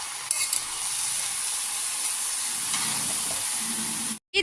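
Khichuri cooks in a pot with salt, ginger and garlic, giving a steady bright sizzle and hiss with occasional stirring scrapes, close and continuous, cut by a brief silence near the end.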